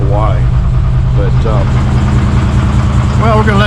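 A vehicle engine idles steadily after being cranked, a low continuous drone running throughout while someone talks over it.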